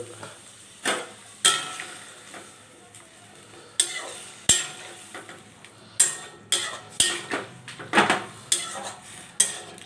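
Mustard and sesame paste being stirred into beans in a pan with a spoon, giving repeated scraping and clinking strokes against the metal with a soft sizzle underneath. The strokes are fairly close and come in an uneven rhythm.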